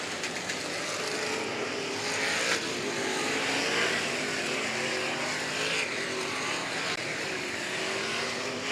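Short-track race cars in a figure 8 race at Showtime Speedway drone and rev continuously, a loud, steady engine roar with shifting pitch from several cars, no talk over it.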